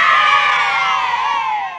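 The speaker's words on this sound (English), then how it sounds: "Here we have a playground cheer" A crowd of children cheers and shouts loudly together as a playground cheer in a recycling quiz app, sustained and bright for about two seconds before trailing off slightly.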